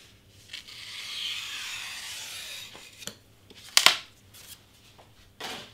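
An Excel Blades craft knife cuts through a Pikachu party prop in quiet, scratchy strokes, with a few sharper snips and taps close by.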